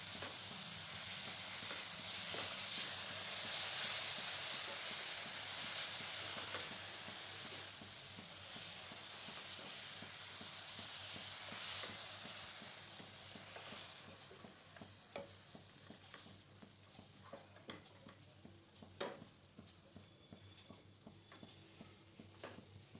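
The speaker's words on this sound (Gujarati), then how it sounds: "હવે સ્વાદ પ્રમાણે મીઠું ઉમેરીશું અને આને ફેરવી લઈએ" Amaranth sabzi stirred with salt in a pan, a steady sizzle and soft scraping strokes running throughout, busier at first and thinning into scattered clicks of the spoon later on.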